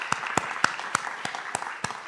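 Sparse applause from the audience at a school district board meeting: about eight distinct, evenly spaced claps, moderately faint, with a low murmur of room noise underneath.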